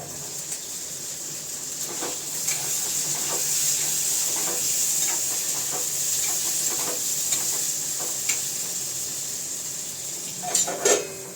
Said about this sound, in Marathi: पनीर थोडेसे तेलावरती असे परतले जातात